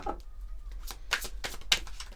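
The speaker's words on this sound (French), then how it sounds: "On va prendre quelques cartes de l'oracle des astres." Oracle cards being shuffled by hand, a run of soft papery riffles and flicks in quick irregular bursts, close and fairly quiet.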